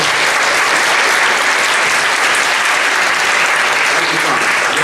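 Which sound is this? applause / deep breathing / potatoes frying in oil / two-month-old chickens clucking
applause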